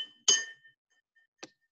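Two bright clinks of a chopstick tapping a ceramic coffee mug, the first louder with a ringing tail, the second lighter a moment later.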